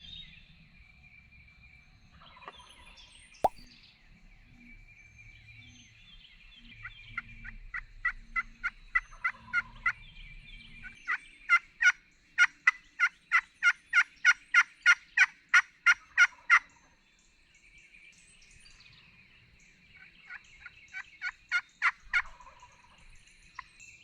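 Bursts of rapid, rattling gobbling calls from wild turkeys, two gobblers, repeat in long rhythmic runs, fairly clear outdoors in Missouri, with quieter trills in between and brief pauses.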